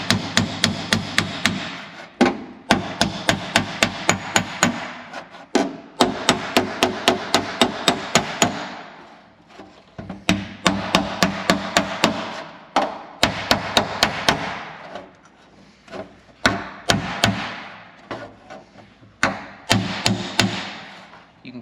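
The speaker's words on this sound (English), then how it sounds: "So I'm gonna hammer here, here, and here, and here, and just kind of hammer up" A hammer planishes sheet metal on a Zephyr conversion car panel in quick rhythmic runs of sharp ringing strikes, with short pauses between bursts, loud and close.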